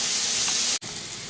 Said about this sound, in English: Just going to continue to stir it. It'll take about 5 minutes for the bacon to cook.